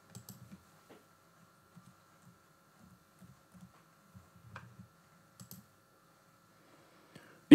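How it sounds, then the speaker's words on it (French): Quiet computer keyboard keystrokes type out a password in short scattered bursts, with a few sharper mouse clicks, close and alone in a silent room. "Vous retapez une deuxième fois votre mot de passe et vous cliquez sur OK."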